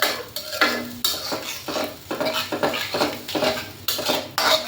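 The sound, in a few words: stirring sour yogurt into fish curry in a pan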